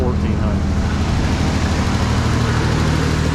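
A Nissan 300ZX engine idles steadily at around 1400 rpm, a constant low rumble with a continuous drone that holds even throughout.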